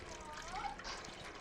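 Close, faint and steady, a kitten laps at water with soft wet splashes and trickling sounds. A voice murmurs faintly now and then.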